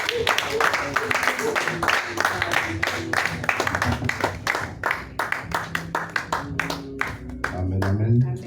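A church worship congregation claps in fast, steady rhythm, with voices crying out and cheering throughout, loud and close in a lively hall.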